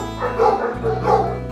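A dog at an animal shelter gives two close, loud barks in quick succession, near the listener with no talk over them.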